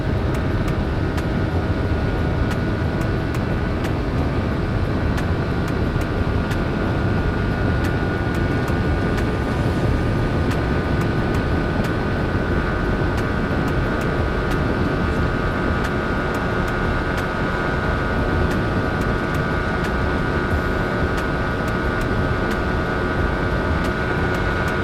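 A Yamaha R15 V3 motorcycle accelerates hard in fourth gear during a speed run, its engine droning loud and steady with heavy wind rush throughout and no talk.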